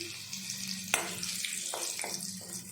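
Whole garam masala hits hot white oil left from frying paneer, giving a steady close hiss and sizzle, broken by a few sharp crackles and pops.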